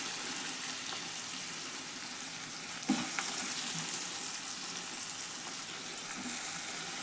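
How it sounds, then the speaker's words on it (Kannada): Tomatoes fry in oil in a pan for a North Karnataka avarekalu palya, giving a steady soft sizzle throughout, with a brief stirring clatter partway through and no speech. "ಇದನ್ನು ಮಿಕ್ಸ್ ಮಾಡ್ಕೊಂಡ್ರೆ ಎಣ್ಣೆ ಒಳಗೆ ಫ್ರೈ ಮಾಡೋಣ"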